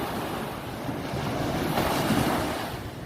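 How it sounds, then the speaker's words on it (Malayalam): Continuous roar of surf and waves washing in at the Anjangadi river mouth near Chavakkad, where river meets sea, mixed with gusty wind buffeting the microphone. "കടലും പുഴയും കൂടി ചേരുന്ന ഭാഗം"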